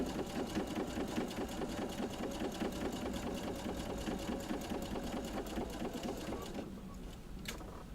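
Sewing machine running a quarter inch seam, a close, steady rapid stitching rhythm that keeps going before slowing and stopping near the end.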